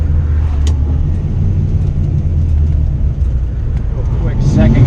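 A small-block Mopar V8 with Trick Flow 190 heads pulls hard through second gear in a car on the street, a loud low engine drone running steadily from start to finish while a voice talks over it.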